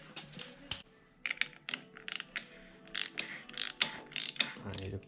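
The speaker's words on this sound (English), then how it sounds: "Next we got to remove this bolt in the middle" A hand ratchet clicks in short, close bursts as it works the center bolt of a Honda Grom (Z125) motorcycle clutch. The clicks come in quick uneven runs with brief pauses between them, and no one talks.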